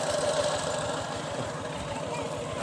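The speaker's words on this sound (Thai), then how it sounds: "ขี่รถไถออกมาเลยเนาะ" A farm tractor engine runs steadily nearby on open farmland, a continuous low chugging idle with a knocking pulse throughout, while faint voices sit underneath.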